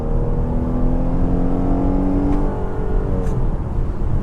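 A 2015 Chrysler 200 accelerating hard from a standstill toward 60 mph after a light pre-load to about 1100 RPM, its engine note climbing loud and close in a steady rising whine with brief wheel spin.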